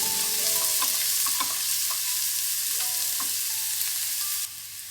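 Large finely chopped onion frying in oil for a green tomato bharit, sizzling steadily with occasional stirring scrapes in the pan, close and alone, the sizzle dropping off near the end.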